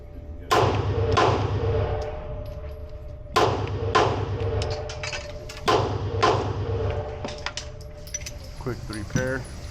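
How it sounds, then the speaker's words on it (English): A Ruger Security 9 pistol fires paired shots at a target, with sharp cracks arriving in quick doubles separated by short pauses, each followed by a ringing metallic decay; nearby and loud. "We're just gonna shoot some doubles in the middle of the target."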